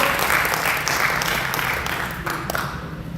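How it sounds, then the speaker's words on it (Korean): At a book concert in the international conference hall of Ansan Arts Center, the audience gives hearty applause, a dense, fairly close burst of clapping that slowly eases off over a few seconds. "힘찬 박수 부탁드리겠습니다."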